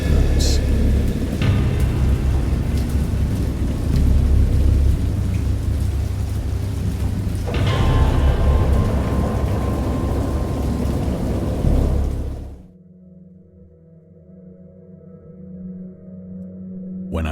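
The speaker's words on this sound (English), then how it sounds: "I heard pearls of thunder and other tones which nature utters only in her wildest moods" Heavy rain pours steadily at sea, broken by deep rolling thunder claps, loud and close for about twelve seconds before cutting off to a low hum.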